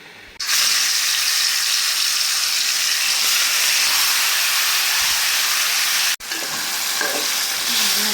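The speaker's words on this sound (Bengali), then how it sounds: "তেল পুরো গরম হয়ে যাচ্ছে, এর মধ্যে আমি এই মেখে রাখা হাড়গুলো দিয়ে দেবো" Marinated chicken bones hit hot oil in a pan and fry with a loud, steady sizzle that begins abruptly and keeps going. The hiss cuts out for an instant near the end and then resumes.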